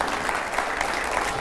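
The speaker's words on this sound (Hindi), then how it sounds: "स्वागत करता हूं तालियों के साथ रविशंकर प्रसाद जी का।" A studio audience applauds steadily at a TV news channel as a political guest is welcomed, dense even clapping filling the whole moment without a break.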